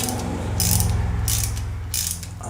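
A ratchet clicks rapidly while small chromed 6mm bolts are tightened on a motorcycle scrambler project, a close metallic rattle in several short bursts over a steady low engine idle.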